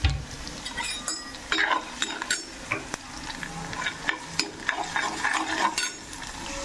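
Chopped ginger and shallots sautéing in a pan for South Indian pepper kuzhambu, with a steady frying crackle broken by repeated sharp clinks and scrapes of a utensil stirring against the metal, close up and without talk.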